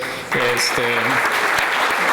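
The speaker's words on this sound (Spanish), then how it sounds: "nuevamente un aplauso a todos ellos" Applause for the members of the presidential table at a national fuel chamber event in a hotel auditorium. Steady clapping from a crowd fills the room after a short spoken line.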